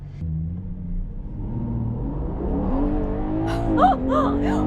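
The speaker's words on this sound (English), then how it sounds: "is it the craziest acceleration I ever felt?" A Ferrari Purosangue launches hard from a standstill with launch control engaged, its engine rumble climbing steadily in pitch and loudness as revs build, with sharp high-pitched whine peaks near the end.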